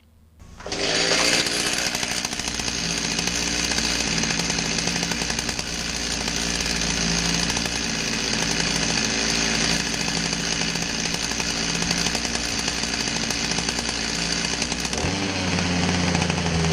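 A Stihl MS290 chainsaw starts and runs loudly at a steady high rev for a long stretch during an oiling test, then drops to a lower idle near the end.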